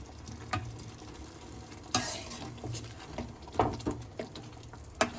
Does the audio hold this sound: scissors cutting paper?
no